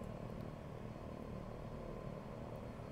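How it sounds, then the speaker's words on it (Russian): Embraer EMB-110 propeller plane taxiing in X-Plane 11, a steady, even engine drone with broad low rumble that holds at constant loudness throughout, no voices present. "Выруливаем на взлетку, не забываем включить посадочные огни."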